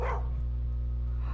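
A dog barks in Skyrim, a single short bark at the start over a loud steady droning game background, fairly close and brief.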